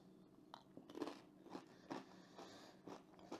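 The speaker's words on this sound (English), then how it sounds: "They're really crispy." Crunchy Japanese crisps are bitten and chewed up close, giving a series of sharp, quiet crunches at irregular intervals with no talking.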